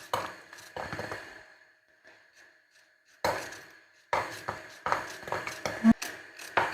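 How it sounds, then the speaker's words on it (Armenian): A knife chopping bell pepper on a board in a home kitchen, with bursts of quick, sharp taps broken by short pauses, then a fast run of strokes, close and clear with no voice over them. "պղպեղել կտրատեմ,"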